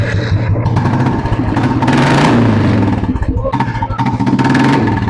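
A 2018 Royal Enfield Classic 350 idles and revs up close, its single-cylinder thump loud and steady with rising revs mid-way, and a few faint voices in the background.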